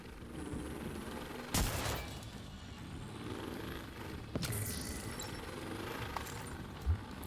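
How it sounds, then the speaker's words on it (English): Video game explosions and gunfire: sharp blasts and bursts of shots cut through a constant loud rumble of battle noise, with a few sudden booms spaced a second or two apart. "explosions."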